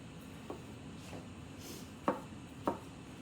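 A sharp kitchen knife chops food on a board in a few slow, sparse strokes, each a quiet, distinct knock with pauses between.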